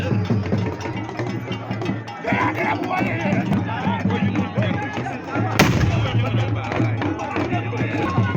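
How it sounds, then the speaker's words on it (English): Loud ceremonial gunshots boom out over a noisy crowd at a Dagbon king's funeral rites in Northern Ghana, with voices and cheering throughout and one especially sharp blast near the end. "So that's why you see all of these gunshots."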